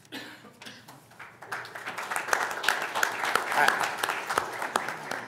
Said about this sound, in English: You don't applaud at council meetings, do you?